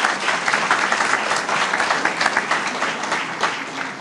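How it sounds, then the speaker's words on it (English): Audience applause at a school district event, dense steady clapping from a large crowd filling the room throughout, loud and unbroken. "Can we give her a round of applause?"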